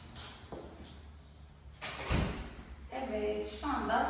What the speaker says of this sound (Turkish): ben kapıyı kapatayım.